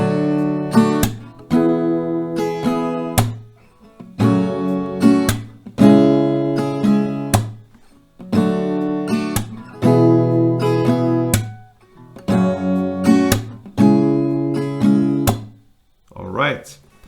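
A slow acoustic guitar chord progression plays in repeated rounds of strummed chords, loud and close, with short pauses between the phrases.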